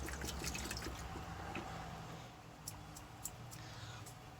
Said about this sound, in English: Let it pour out into the bucket.